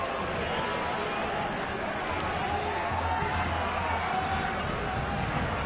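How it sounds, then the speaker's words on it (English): Football crowd in a stadium at a Leganés versus Getafe match shouting after a foul, a broad, continuous roar of massed voices heard from within the stands, with a sustained low tone swelling in the middle. "Draws even louder shouts from the crowd around us here."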